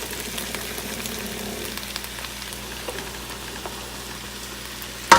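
Butter melts in a hot pan for fried rice, giving a steady, low, even sizzle throughout, with a sharp knock at the very end and no talking.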